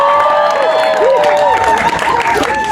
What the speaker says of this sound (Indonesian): Boleh tepuk tangan yang meriah juga untuk Amanda Manopo.